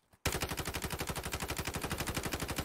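Sustained rapid automatic gunfire from Call of Duty Warzone Mobile, a loud, dense stream of evenly spaced shots that starts abruptly after a brief quiet moment and continues without a break.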